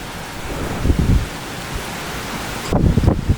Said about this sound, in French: l'orage de malade, là c'est clairement l'orage de l'année.